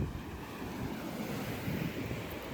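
Surf surging and crashing against the rocky shore of an isolated island, a steady loud roar of broken water with wind buffeting the microphone, no voices.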